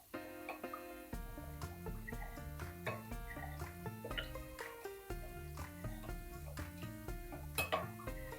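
A spoon stirs an egg mixture with water and green chilli sauce in a bowl, giving quiet, steady clinks and scrapes against the dish with soft liquid sloshing, close and without talk.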